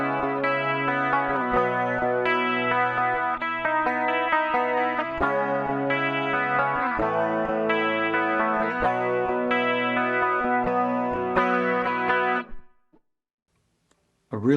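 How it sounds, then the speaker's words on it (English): Clean electric guitar through an analog stereo chorus on a Fractal FM3/FM9/Axe-FX III preset, 80s style tone, strumming sustained shimmering chords for about twelve seconds before stopping abruptly. "We are sending that into an analog stereo chorus"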